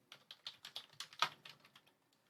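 Quick, light keystrokes as a line of text is typed on a computer keyboard, about a dozen soft clicks in an even rhythm, close and quiet, with no talking.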